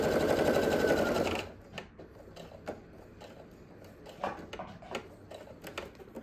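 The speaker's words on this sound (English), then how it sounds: "Now I'm just going to keep sewing to that dot." Sewing machine stitching fabric for a paperback-style tote bag, a fast continuous whirring run for over a second that stops abruptly, followed by quiet scattered clicks and handling noises.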